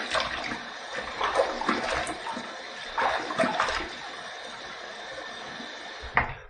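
Tap water runs into a bathroom sink while a razor is rinsed during a shave, a close, steady splashing rush with a few louder surges and a final sharp splash.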